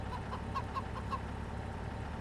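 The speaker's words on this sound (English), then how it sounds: "I hear your chicken, but I don't see you." Chicken clucking in the survival video game Mist Survival, a short run of soft, evenly spaced clucks heard at a distance over a constant low ambient rumble, with no talking.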